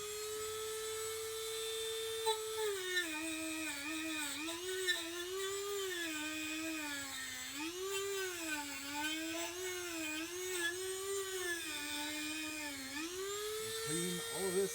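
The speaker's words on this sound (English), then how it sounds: "And I've got on my Dremel here a little wire brush." A Dremel rotary tool fitted with a small wire brush cleans metal on a Volvo Amazon 122S. Its high whine rises and dips continuously as the load changes, close and steady for the whole stretch.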